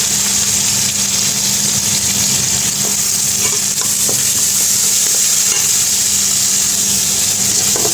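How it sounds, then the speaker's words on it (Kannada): Onions sizzle loudly in a pan that already holds ginger-garlic paste, curry leaves and mustard seeds, a steady dense frying hiss throughout with faint stirring scrapes and no voices. "ಇದಕ್ಕೆ ಇವಾಗ ಈರುಳ್ಳಿ ಹಾಕ್ತಾಯಿದ್ದೀನಿ."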